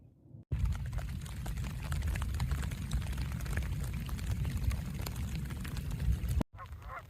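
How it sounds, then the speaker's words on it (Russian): Heavy rain falling on a river, a steady dense hiss and patter of drops on the water, close and continuous for about six seconds between brief quiet gaps. "вот это уже сильный дождик стал"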